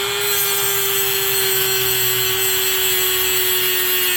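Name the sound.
cutting into a Lincoln LS rear wheel bearing at an angle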